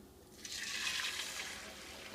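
Beaten egg poured into very hot oil in a pan on high heat, a broad steady sizzle that swells quickly and holds, close and fairly loud with no talk.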